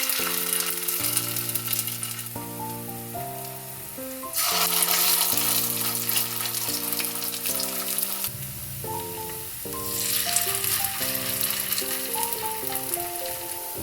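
Spinach pakoras fry in hot mustard oil in a frying pan, a continuous hissing sizzle sitting underneath louder melodic background music that plays throughout.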